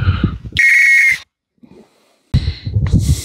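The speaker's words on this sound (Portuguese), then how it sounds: "O pessoal obedeceu o apito e estão voltando." A loud, sharp whistle blast at the Douaumont fort near Verdun, blown to call a tour group back. A single long shrill tone follows near outdoor sounds, then a pause, then further outdoor noise and a brief whistle-like burst.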